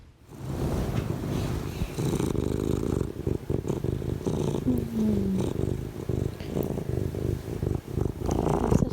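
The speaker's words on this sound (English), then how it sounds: "Nice sweet purrs. Such nice sweet purrs." A cat purrs close up in a steady, rhythmic rumble, each breath cycling the vibration in and out.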